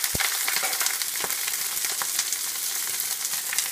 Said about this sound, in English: This is what I call flash fry.